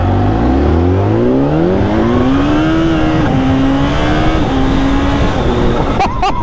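An Exeet quad motorbike at full throttle: a loud engine note climbing steadily in pitch through the gears, roaring close and continuous, with a brief clatter at the end.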